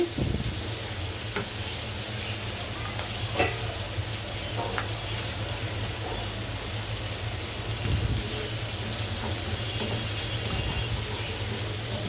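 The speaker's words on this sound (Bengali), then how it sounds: "এই চুলায় হচ্ছে ঝিঙ্গাটা চিংড়ি মাছটা আমি সুন্দর করে কষিয়ে নিচ্ছি।" Ridge gourd and shrimp sizzle steadily in a hot pan as they are sautéed, with a constant frying hiss broken by occasional soft scrapes and clinks of stirring.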